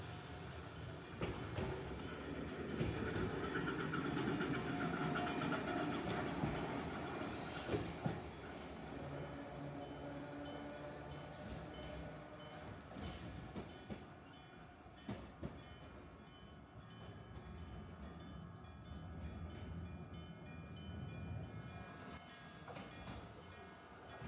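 A tram on Kyoto's Randen line rumbles past a station beside the depot with steady rolling noise and rail clatter, loud at first and easing off as it moves away, with occasional sharp clicks from the track.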